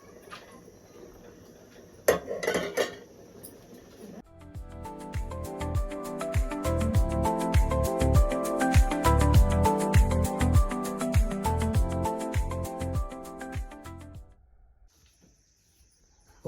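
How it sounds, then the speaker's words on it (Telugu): Little millet rice simmers in a pot on a stove, a close, steady bubbling and gurgling that swells for about ten seconds after a few clinks, then stops, with no talk. "ఈ రకంగా ఉడుకుతుందండి."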